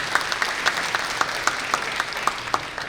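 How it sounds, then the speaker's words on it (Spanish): Applause for a community member at an agricultural panel, with one crisp clapper keeping an even beat of about four claps per second above a soft bed of scattered clapping from the room, no voices. "Aplausos para él"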